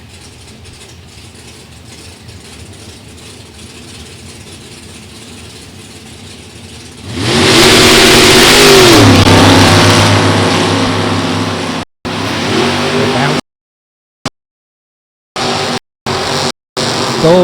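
Drag racing cars at Beech Bend drag strip roar at full throttle as they launch, a loud sustained blast of engine noise that falls with the pitch, then cuts in choppy bursts toward the end.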